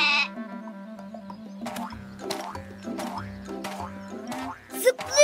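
Repeated nasal bleats from a cartoon goat in an animated children's show, several in a row with brief gaps, loud and close, under a steady low background tone.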